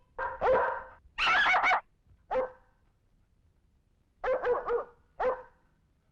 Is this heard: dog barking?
yes